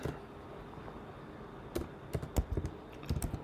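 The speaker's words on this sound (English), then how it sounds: "Let's see if you can see what I'm typing." Someone types on a computer keyboard at a coding bootcamp. Soft, irregular clicks and taps start after a quiet stretch and come in uneven bursts, close to the microphone, with no talking.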